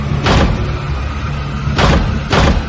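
A door is yanked and shoved in a horror story, three heavy rattling thumps against the frame over a low continuous rumble, close and loud, with no talking.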